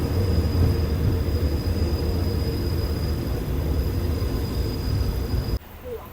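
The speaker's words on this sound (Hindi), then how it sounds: "सामने खड़ी है भाई बैंकॉक की मेट्रो, कुछ ऐसी होती है बैंकॉक की मेट्रो" A Bangkok metro city-line train rumbles loudly and steadily nearby with a constant high whine above the roar, then the noise drops abruptly near the end as the sound cuts to a quieter space.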